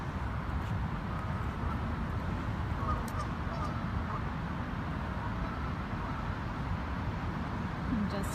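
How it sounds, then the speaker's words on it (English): Geese honk faintly in the distance during near-record flooding in Cincinnati, almost buried under a constant roar of wind or outdoor noise. "So we can hear the geese now."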